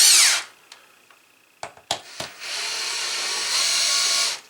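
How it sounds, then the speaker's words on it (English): A power drill pulls Phillips screws from a Kidde smoke alarm mounting plate: a short opening whir, a few light clicks, then a close, steady spin lasting about two seconds that shifts up in pitch before stopping. "So to remove the plate, in my case it's just the Phillips screws over here."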